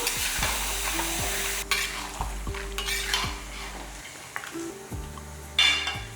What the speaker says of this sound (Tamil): நல்லா கலந்து விட்டுட்டு மூடி வச்சிடலாம்